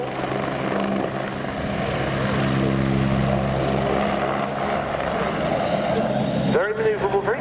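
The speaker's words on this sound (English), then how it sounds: "Very manoeuvrable, very brisk helicopter this." Belgian Air Force Agusta A109 helicopter flying a display at an air show, its steady loud rotor and engine drone sustained throughout, with a commentator talking over it.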